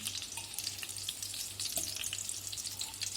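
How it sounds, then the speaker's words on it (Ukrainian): Chicken mince cutlets frying in a pan, with a steady crackling sizzle throughout and a faint low rhythmic hum under it, no voices. "котлетки прожарилися на другій стороні"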